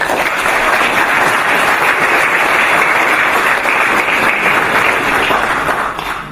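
An audience applauds the newly named honorary ambassadors and members at a founding assembly in Prijedor, a loud, dense, continuous clapping from a crowd that tapers slightly at the end.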